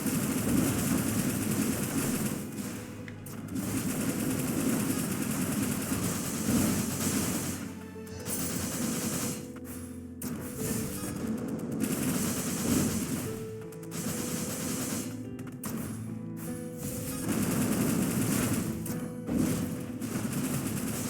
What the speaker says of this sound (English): Hitbox for those explosions is actually surprisingly generous.